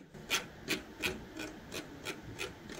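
A light, ratcheting tick from a Logitech MX Vertical mouse scroll wheel repeating at a steady pace, about six or seven soft clicks, close up and quiet with no talking.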